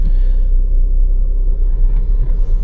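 A Skoda Rapid 1.6 TDI Spaceback with a manual gearbox and mechanical handbrake pulls out onto the road, giving a deep, steady diesel rumble from close inside the cabin.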